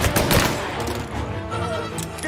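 Gunfire in Mafia: Definitive Edition, a dense volley of shots blending into a continuous loud burst throughout, with game sound and no clear speech.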